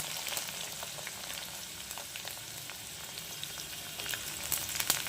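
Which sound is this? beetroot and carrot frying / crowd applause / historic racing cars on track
beetroot and carrot frying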